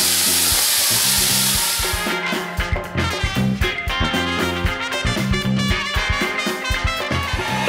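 Olive oil and seasonings sizzle and crackle loudly in a cooking pan on the stove, a dense close frying hiss with bursts of popping throughout.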